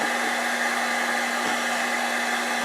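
A heat gun blows steadily to shrink heat-shrink tubing while rewiring a Singer BU7e sewing machine motor, giving a constant, close, even whirring hiss with no pauses and no voices.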